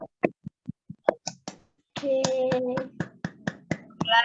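Children in an online class clap, first as a sparse run of separate sharp claps, then as a denser burst of clapping over a held tone and background murmur.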